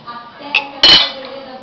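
A big spoon clinking against dishes, with a light tap and then a sharper ringing clink close by in a quiet room.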